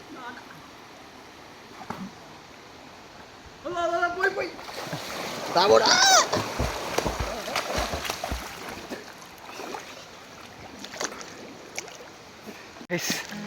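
A loud splash as a person jumps into a cold forest stream rises midway, with voices calling out around it and flowing water continuing underneath.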